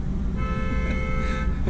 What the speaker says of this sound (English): and that's the horn honking.